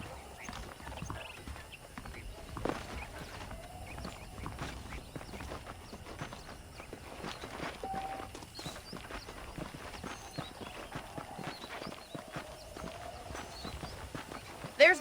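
Horse hooves clip-clopping at a steady riding pace in Red Dead Redemption, a soft continuous rhythm of hoofbeats under ambient game sound, with a brief louder knock near the end.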